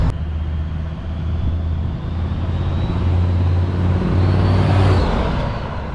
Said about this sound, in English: Whoo, that's a proper diesel right there